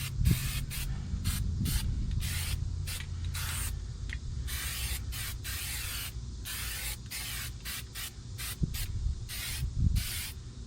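Short repeated bursts of aerosol anti-rust spray hiss onto front wheel hub parts of a 2011 Nissan Altima, roughly a dozen close, loud puffs of varying length separated by brief pauses, with no talking.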